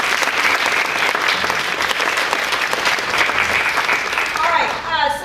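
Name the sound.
audience applause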